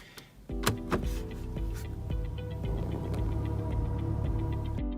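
An electric car shifted into drive settles into a steady, even electric hum after a few sharp clicks, with soft ticking continuing beneath the drone.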